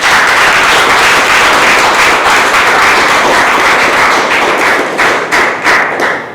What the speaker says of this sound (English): Please welcome with a big round of applause, Toastmaster Prashant.